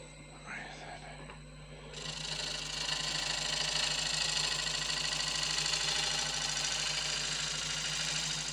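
A wood lathe spins a white oak yarn bowl blank with a fissure as a finishing cut is taken, giving a steady droning hum with a sharp rise after the first couple of seconds.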